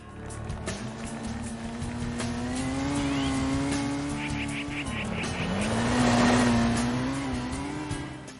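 Rally car engine from the video game Rally Trophy, a steady loud drone with rising and falling revs through gear changes, swelling louder near the end as the car crosses the stage finish.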